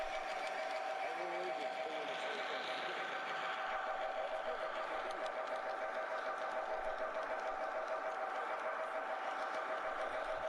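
An AML 0-6-0 model train pulls three heavyweight cars in New York Central livery around a club layout at a train show. It gives a steady running hum with faint whistle-like tones under continuous crowd chatter in the hall.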